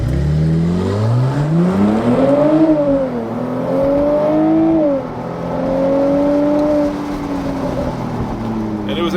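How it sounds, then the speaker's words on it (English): Car accelerating hard in Sport Plus mode with the exhaust baffles open, a loud close engine note climbing in pitch through several gears with brief dips at each shift. "The exhaust changes, baffles open, it sounds better, but let's see if it's faster."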